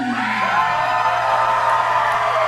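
Wrestling crowd cheering and whooping for a wrestler's ring entrance, a loud sustained roar of many voices with scattered yells, steady throughout.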